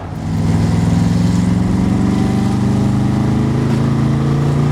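A Chevrolet Corvette C3 with a modified engine holds a loud, steady revving drone, its deep exhaust note resonating through the car's body, close and continuous with no talk.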